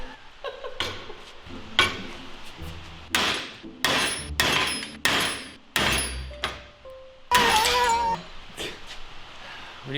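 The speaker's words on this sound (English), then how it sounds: "What better to do on a rainy day but hammer away?" Sharp metal hammer blows ring out at close range while a Lexus GS300 rally car is being built, coming in uneven bursts with a short meow-like squeal between strikes.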